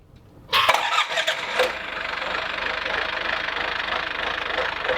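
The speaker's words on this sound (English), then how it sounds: "So we just have to now turn the engine on and make sure water is coming out the" A boat engine cranks and catches with a sudden loud burst, then settles into a steady, even running drone close by, with voices present.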